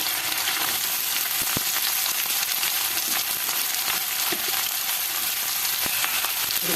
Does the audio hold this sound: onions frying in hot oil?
yes